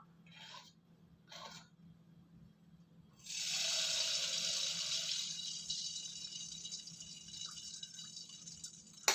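Appam batter dropped into hot oil for a Karthigai festival sweet, a sudden loud sizzle that starts partway through and keeps hissing steadily, after quieter kitchen sounds.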